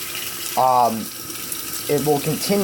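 A GE GTW680 top-load washing machine fills with water on a delicate cycle, a steady rushing flow running continuously under someone speaking nearby.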